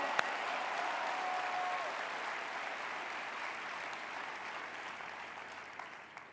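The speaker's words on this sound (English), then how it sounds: "give yourselves a huge round of applause and raise the roof on this place one time" Sustained applause from a large conference audience in Atlanta fills the room, a dense steady wash of clapping that holds loud throughout and eases only slightly toward the end.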